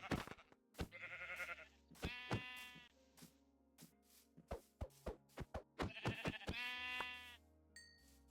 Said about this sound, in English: Oh, sheep. There they are.